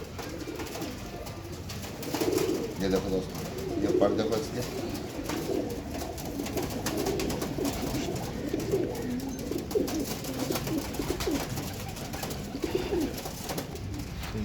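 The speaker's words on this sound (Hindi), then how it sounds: "ये देखो दोस्तों अपने लाल कबूतर का शौक करवा रहा हूँ मैं आपको" Red pigeons coo in low, rolling murmurs close by, steady through the clip while someone talks over them.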